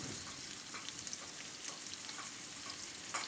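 Chowmein noodles with beans and salt being stir-fried in a pan, with a soft, steady sizzle and scattered light stirring scrapes, quiet and close.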